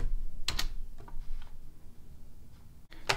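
Keys pressed on a computer keyboard while entering a command in a terminal window: a few sharp clicks, a close double tap near the start, scattered lighter taps and a final press at the end, quiet room.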